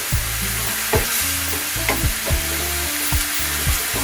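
Onion, ginger, garlic and green chilli paste fries in a pan with a steady sizzle, broken by regular scraping stirs roughly every second, close and fairly loud with no voices.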